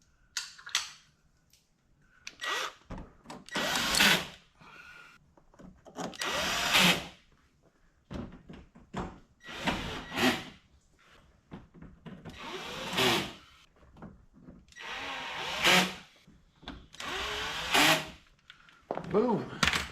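Cordless power tool driving screws during a water pump replacement on a 2018 Ford Focus, coming in repeated bursts of several seconds each with quiet gaps between them.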